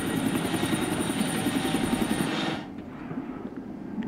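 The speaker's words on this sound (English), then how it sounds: "Helicopter landing on a train?" A helicopter's rotor chops loudly and steadily, then cuts off abruptly, leaving quieter background rumble.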